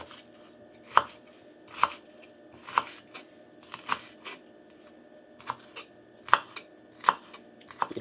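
A knife chops onion on a cutting board for guacamole, about ten crisp, evenly spaced taps close by and fairly quiet, with no talking.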